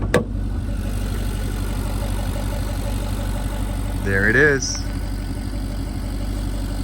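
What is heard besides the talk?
2019 Ferrari Portofino twin turbo V8 engine idling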